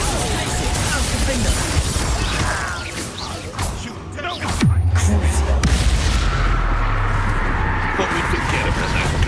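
Incendio and Confringo spells cast in Hogwarts Legacy make a dense, loud wash of fiery bursts and crackling impacts, with a heavy boom near the middle over continuous game noise.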